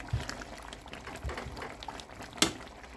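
Oily chicken kosha cooking down in oil in a pan, a faint bubbling, popping simmer with soft spatters and a few sharper ticks and knocks, close and quiet with no voices.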